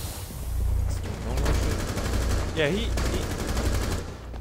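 Rapid automatic gunfire in a video game, a dense rattling stream of shots running through the whole stretch, loud and close, with a brief spoken word partway through.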